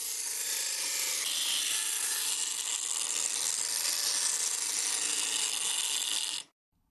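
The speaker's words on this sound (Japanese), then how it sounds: "グラインダーで厚みや幅を整えて形を仕上げていく。" A grinder shapes a metal piece to thickness and width for traditional architectural craft work, giving a steady, loud abrasive rasp that holds for about six seconds and then stops abruptly.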